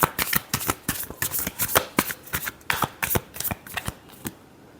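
Tarot cards being shuffled by hand in a quick, steady run of crisp riffling flicks, close and fairly loud, with no talking over them.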